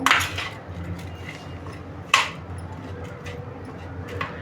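A spoon clinks against a bowl while mixing instant raw mango pickle with spices, a few sharp metallic taps spaced seconds apart over soft scraping, with a voice faintly present.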